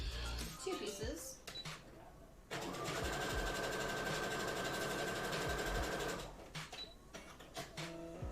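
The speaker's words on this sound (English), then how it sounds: "So we're going to be sewing" A sewing machine stitches fabric pieces for a cosplay outfit, running in a steady, close, buzzing whir for several seconds between quieter handling sounds, with talk nearby.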